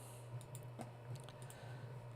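Quiet keystrokes on a computer keyboard tap out a few light, irregular clicks over a steady low background hum, with no voices.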